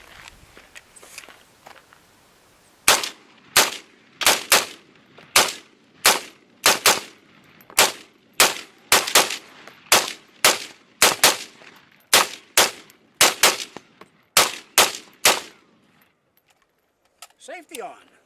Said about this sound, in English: Let's fire a couple of rounds